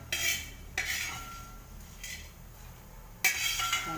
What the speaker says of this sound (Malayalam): കോരി ഒരു പാത്രത്തിൽ മാറ്റി വയ്ക്കണം.